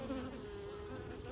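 Defensive honeybees buzz around an opened outdoor apiary hive during mite treatment, a dense, continuous drone of many wings close by.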